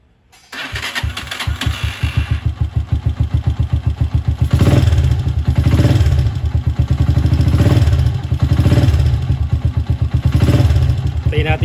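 Rusi Wavestyle motorcycle engine cranking on its electric starter, then catching and running loudly up close with a rough rhythmic chug that swells and settles into idle.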